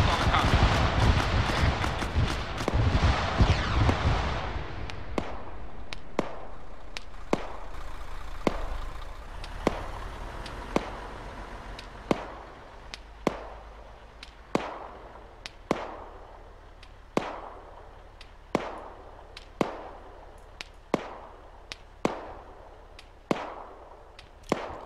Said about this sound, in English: who's shooting that? Is that the enemy taking shots like that?